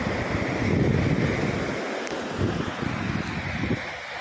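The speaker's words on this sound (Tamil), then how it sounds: "ஸோ பீச் எப்படி இருக்குன்னு பாருங்கள்." Ocean waves wash onto Pondicherry beach in a steady, broad roar of surf, with wind rushing across the microphone throughout and no voices.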